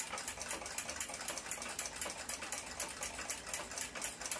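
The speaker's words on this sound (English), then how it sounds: "Peening the brass rivet takes a lot of light hits to get a quality job done." Rapid, evenly spaced light hammer taps peen a brass rivet on a gear of an 1882 Ansonia clock movement, a steady close-up patter with no talking.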